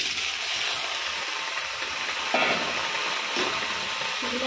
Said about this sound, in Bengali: শুকনো কড়াইতে টমেটোটা দিয়ে দিয়েছি। এবার নেড়ে নেড়ে জলটা শুকিয়ে নেব।